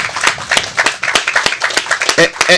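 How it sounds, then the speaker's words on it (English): Brief scattered clapping from an audience at a housing ribbon cutting, a few irregular claps mixed with crowd voices and talk, short and fairly close. "please give Marcel a round of applause"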